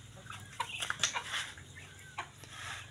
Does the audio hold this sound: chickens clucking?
yes